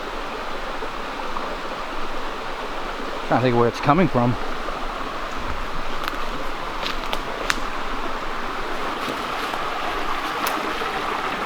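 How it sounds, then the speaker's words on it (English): A smaller river feeding into a main river near an old New England cart road, heard as a steady broadband rush of flowing water throughout, with a person speaking briefly near the start. "It's a completely different river feeding into the main one."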